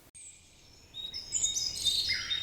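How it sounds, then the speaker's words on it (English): Outdoor birdsong in Jamaica: thin high whistled notes start faintly, then several birds chirp and trill together more busily and louder toward the end, with no voices present. "The chirping of the birds"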